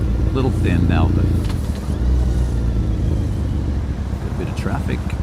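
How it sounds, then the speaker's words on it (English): Motorcycle ride through cross-town traffic toward Shibuya in Tokyo, with a steady engine rumble and surrounding car noise running continuously, close and loud, while someone talks over it. "a bit of traffic."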